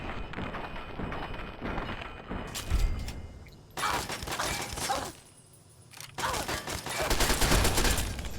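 Bursts of gunfire in the video game Fallout 3, loud and close, several rapid volleys broken by brief quiet gaps.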